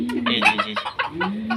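Malaysian Serama chickens give a run of quick, nasal clucks and short calls in an uneven rhythm, loud and close. A low steady hum sits underneath, and no one speaks.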